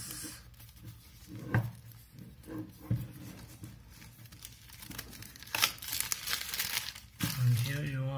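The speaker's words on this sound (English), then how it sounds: "So time to unwrap this." Packaging of a OnePlus 6T phone being unwrapped, with soft crinkling and rustling of wrap and box, a few louder crackles and tears close by, and a brief voice heard near the end.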